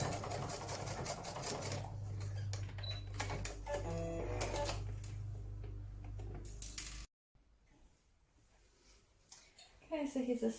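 Sewing machine stitching a skirt seam at normal stitch length, a steady fast mechanical whirr that runs for several seconds, then stops, with someone talking over it.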